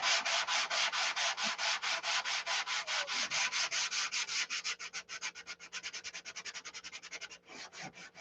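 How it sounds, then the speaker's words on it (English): Sanding of a clear-coated surface by hand, a long run of rhythmic rubbing strokes, steady and close at first, then quicker and lighter strokes toward the end. "1 coat of clear, then sand it."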